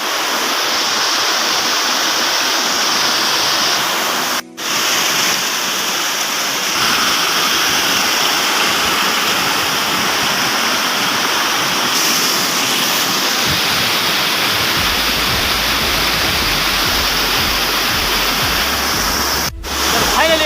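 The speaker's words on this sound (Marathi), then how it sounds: "हे बघा खूप सुंदर असा धबधबा आहे" A monsoon waterfall at the foot of Kalsubai mountain pours in the rain, a loud, dense, unbroken roar of falling and splashing water heard up close, steady for the whole stretch.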